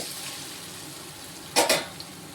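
Mango pieces sautéing in a pan for pickle, with a soft continuous sizzle and two quick utensil scrapes against the pan near the end, close by, no speech.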